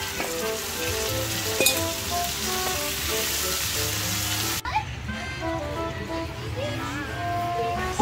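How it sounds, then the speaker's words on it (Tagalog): A large batch of sotanghon noodles cooking, a dense, steady sizzle and frying hiss with stirring scrapes, continuing after a brief cut, under occasional talk. "Nagluluto tayo ng sutanghon na maramihan talaga."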